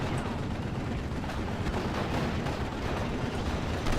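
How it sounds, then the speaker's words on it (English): Incoming artillery fire in the video game Steel Division, a continuous dense rumble of distant blasts and crackling impacts layered at an even loudness, with no talk. "All the artillery incoming."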